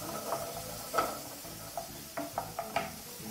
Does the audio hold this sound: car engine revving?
no